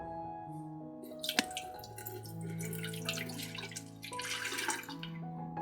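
Water poured from a tumbler into an empty stainless steel electric kettle, a splashy pour with a few clinks and drips, close and moderately loud, with steady background tones underneath.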